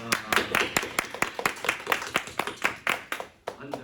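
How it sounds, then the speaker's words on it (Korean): A small youth church congregation gives welcoming applause to a returning student, with sparse, distinct claps from a handful of people in an uneven rhythm, close and fairly loud. "우리 환영의 박수를 하겠습니다"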